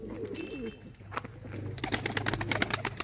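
An old pet bird, likely a pigeon or dove, gives soft cooing calls close by, followed by a quick run of bright, rhythmic chirps against light room background.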